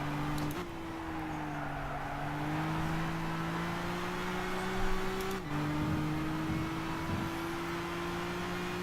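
A race car engine in the Gran Turismo video game at GT Academy drones steadily at high revs, with a brief gear-shift dip partway through; the tone rises slowly and holds loud and even the whole time.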